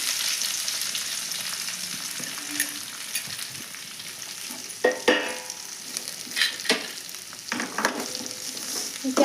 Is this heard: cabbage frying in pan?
yes